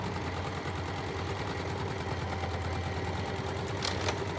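A sewing machine stitching a pintuck panel, a continuous fast rattling hum of the needle running steadily and close throughout, with a couple of light clicks near the end.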